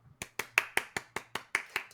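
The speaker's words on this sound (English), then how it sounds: "I get applause? Yeah, you get applause." A quick run of about ten evenly spaced claps from a single pair of hands, close and crisp, steady rhythm.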